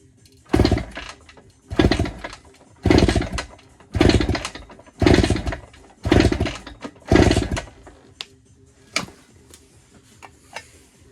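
A 1960s Cotton scrambler motorcycle engine is revved by opening the throttle, giving seven loud, evenly spaced bursts about a second apart, then fading to a few sharp, fainter pops near the end.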